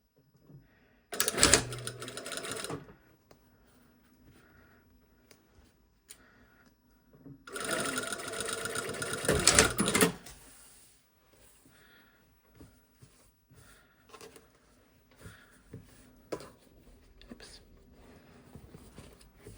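A sewing machine stitching a lined vent runs in two loud bursts, one short and one longer, separated by quiet pauses filled with faint handling clicks and soft rustling of fabric.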